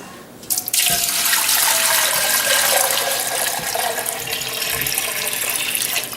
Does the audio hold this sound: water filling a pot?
yes